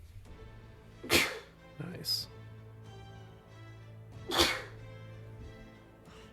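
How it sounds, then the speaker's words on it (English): Two sharp human sneezes, one near the start and a second a few seconds later, each a loud burst standing out over a quiet background, with a brief spoken word between them. "I had a sneeze."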